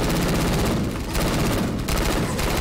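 Rapid gunfire bursts from the zombie shooter Left 4 Dead 2 fill the whole stretch, loud and continuous with brief dips, no voices over them.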